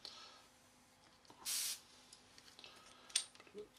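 A short burst of black spray paint hisses from a can onto a Trumpeter 1/32 scale Swordfish model kit, one brief close spray and a quick second puff amid quiet room noise.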